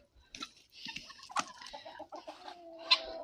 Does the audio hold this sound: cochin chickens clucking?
yes